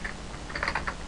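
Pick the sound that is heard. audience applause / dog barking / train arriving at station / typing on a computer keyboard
typing on a computer keyboard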